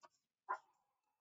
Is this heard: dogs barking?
yes